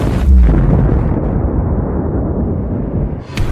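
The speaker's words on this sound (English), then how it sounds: "Suddenly, a massive explosion thundered, obliterating the arena completely," A massive explosion thunders across an arena as a loud, sustained low roar that rumbles steadily and fades slightly before a brief crackle at the end.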